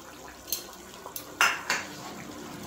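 Fish curry with cauliflower and potato stirred in a pot, a few sharp metallic clinks and scrapes of a spoon against the pot over a quiet bubbling background, close and alone.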